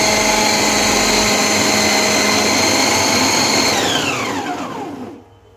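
A Preethi Zodiac mixer grinder runs loudly and steadily on speed 1 while mixing chapati dough, then its motor whines down and stops near the end.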